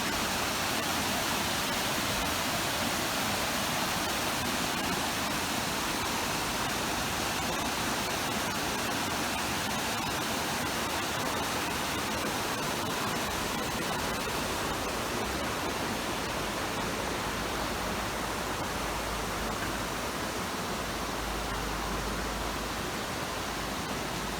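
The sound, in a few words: flowing river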